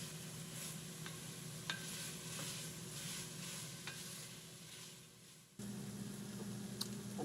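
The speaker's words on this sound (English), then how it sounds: "We'll give that one more stir." A spoon stirs garlic through a pot of kale and smoked turkey soup, giving steady scraping and sloshing over a low sizzle, with a brief break near the end before the stirring resumes.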